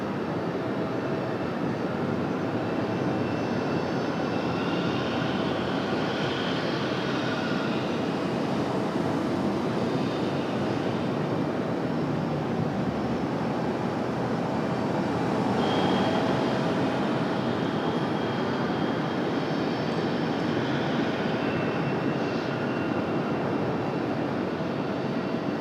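An airplane at Raleigh-Durham International Airport makes a steady, unbroken roar that holds at an even loudness for the whole stretch, with no voices over it.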